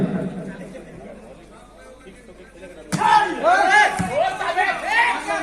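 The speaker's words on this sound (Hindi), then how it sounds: "ताली और शोर ये कम नहीं होना चाहिए।" Crowd noise at a volleyball match, with a steady hum of chatter that swells suddenly into loud clapping and cheering. Shouts and voices ride over the din, and a commentator can be heard through it.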